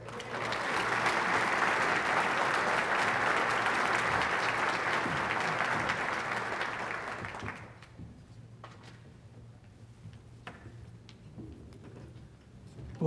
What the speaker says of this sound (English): So let's go ahead and give a big round of applause, ladies and gentlemen